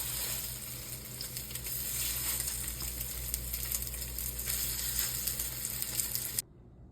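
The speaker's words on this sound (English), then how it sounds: "this is the shape I made with the salmon, and I'm gonna fry them now" Salmon burger patties fry in a pan, a steady close hiss and crackle running evenly for several seconds before cutting off abruptly.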